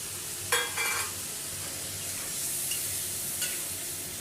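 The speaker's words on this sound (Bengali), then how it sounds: "আমার মশলাটা কষানো হয়ে গেছে, আমি এবার ফুলকপি আলুটা দিয়ে দিলাম।" Bengali spice paste of ginger and cumin fries in a pan for a paneer, cauliflower and potato curry, giving a steady soft sizzle with a few stirring scrapes near the start, close and fairly quiet.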